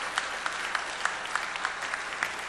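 A church congregation claps together in a burst of applause, a dense rapid patter of many hands that holds steady for a couple of seconds without talk.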